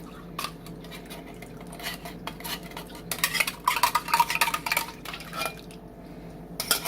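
A spoon scrapes and clinks inside a can as cream of mushroom soup is pulled out, giving soft irregular metallic scrapes that grow busier midway through, in a quiet kitchen.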